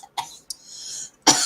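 Several sharp coughs from a person with a tickle in the throat: one short burst, a second brief cough followed by a drawn-out raspy exhale, then a loud harsh final cough, all close and with no talking.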